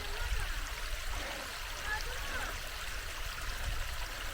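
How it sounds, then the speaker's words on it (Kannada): Steady, soft rushing of flowing water from a waterfall stream a little way off, continuous and even with no talking. "ಇದು ಫಾಲ್ಸ್ ಇದು, ಆ್ಯಕ್ಚುಲಿ ತುಂಬ ನೀರು ಹರಿಯತ್ತೆ ಇಲ್ಲೆಲ್ಲ"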